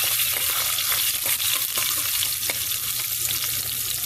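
Garlic fries in a pan of oil for gongura dal, a loud, dense hiss and crackle that stays steady throughout with faint stirring scrapes, up close, with no speech.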